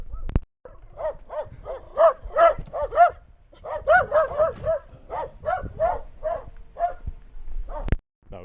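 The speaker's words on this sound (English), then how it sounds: "Now we got deeper barks." Dogs bark beside a road, a run of repeated sharp barks in quick bursts, fairly close and loud, with brief pauses between volleys.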